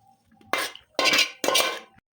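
Cooked potato curry is tipped and scraped out of a pan, giving three short, close bursts of scraping with light metallic clinks, separated by brief pauses.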